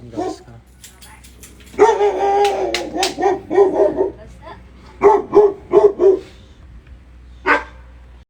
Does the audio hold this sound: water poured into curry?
no